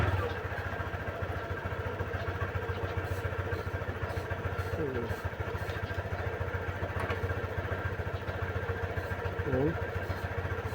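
A Honda Click scooter engine idles steadily with a low, even putter and light mechanical clatter, running close by for the whole stretch with faint background sounds.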